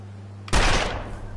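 A single loud gunshot rings out in the survival game The Long Dark as a rifle is fired at a wolf, a sharp crack with a short decaying echo over a quiet low hum.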